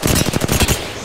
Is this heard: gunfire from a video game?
yes